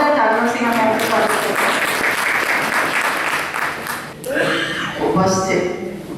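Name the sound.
audience applause at a conference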